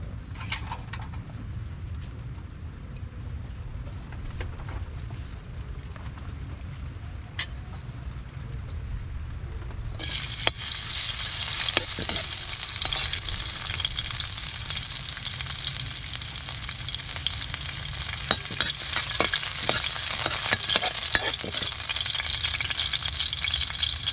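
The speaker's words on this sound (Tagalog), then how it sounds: "mantika gisa po ang una natin gagawain" Oil sizzles steadily in a pan while onions and garlic sauté for a Filipino tomato-stewed fish with egg, quiet at first and then swelling into a loud, dense crackling fry with no talking.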